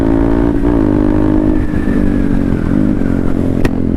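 A motorcycle engine revs hard and holds a loud, steady, close roar while the bike rides a wheelie, with a brief sharp clatter near the end.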